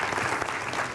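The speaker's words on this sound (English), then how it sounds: "So you can clap to yourselves." Summit audience applause, a dense, even wash of many hands clapping at once, loud and sustained across a short moment with no break.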